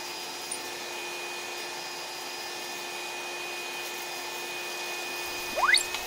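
A steady, quiet mechanical hum with a constant tonal whine from a Danhui NR15 robot vacuum with a mopping function runs throughout, ending with a brief rising chirp near the end.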